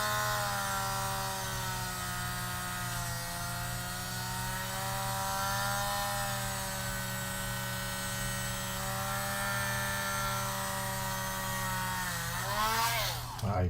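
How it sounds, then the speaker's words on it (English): A handheld Dremel rotary tool grinds steadily with a sustained high whine and layered harmonics, holding a constant pitch before briefly winding down near the end. "So then we're going to Dremel a little bit."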